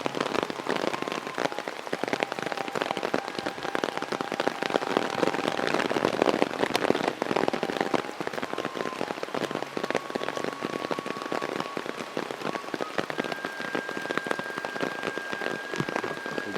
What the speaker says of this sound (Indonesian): Hujanna baraya ini mah deras pisan.